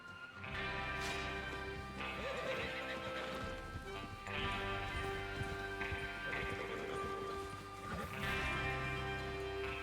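Horses in the video game Red Dead Redemption 2 neigh and whinny over steady hoofbeats, with a loud layer of game music and ambience running underneath throughout.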